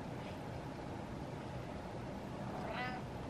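A single short cat meow comes near the end, close but fairly soft, above a steady hiss of room noise.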